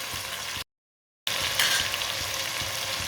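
Chopped tomatoes and green chilies sizzle and fry steadily in a pan for a Punjabi-style chicken and turnip dish, a close continuous crackle broken by a short silent gap.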